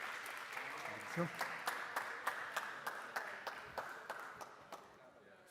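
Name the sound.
audience applause welcoming a speaker on stage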